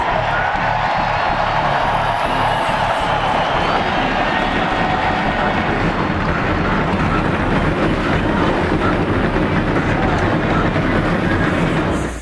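NASCAR race car engines roar at the 2024 Grant Park 165 street race in Chicago, a loud, dense, continuous mechanical rumble filling the whole stretch with no pauses.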